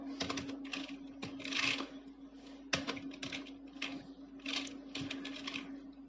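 Rapid bursts of keystrokes on a computer keyboard while HTML heading tags are entered, clattering in uneven clusters over a steady low hum, close and moderately loud with no voices.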